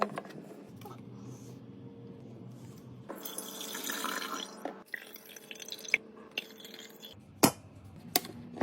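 Water runs from the tap of a homemade functioning play kitchen sink, splashing and dripping into the basin in short bursts with gaps and a few sharp knocks, close by and moderately loud.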